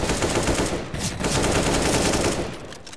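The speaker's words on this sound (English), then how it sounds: "I was shooting through the smoke" Dense, loud automatic gunfire from the video game CS:GO, rapid overlapping shots filling the whole moment with only a slight dip midway.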